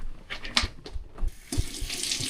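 Tap water runs steadily from a faucet into a container at a sink, a close, continuous rushing splash with small gurgles and shifts in pitch as it fills, and no talking.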